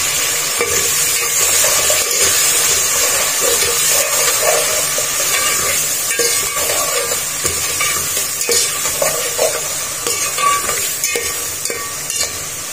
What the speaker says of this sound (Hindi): थोड़ा सा पानी ऐड करेंगे।